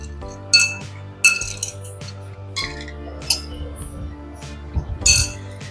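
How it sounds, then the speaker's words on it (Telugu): Ice cubes drop into glasses of watermelon juice with bright, separate clinks, about five over several seconds, close by and alone over a low steady hum. "ఇందులో ఐస్ క్యూబ్స్ వేసుకుని"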